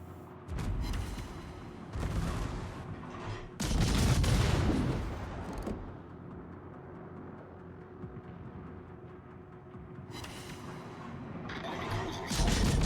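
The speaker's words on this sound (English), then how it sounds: "I'm able to fire volley after volley without being harassed by these 2 ships" Naval guns firing repeated volleys in the World of Warships game, several loud booming bursts a second or two long separated by quieter rumbling stretches, with a musical soundtrack underneath and no speech.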